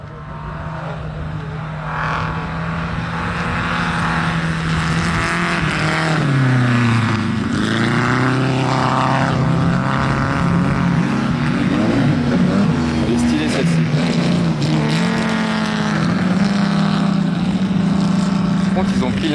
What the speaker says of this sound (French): Il y a une Ferrari qui galère un petit peu à se lancer.